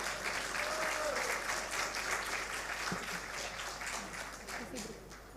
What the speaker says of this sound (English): please round applause to our speakers for their valuable knowledge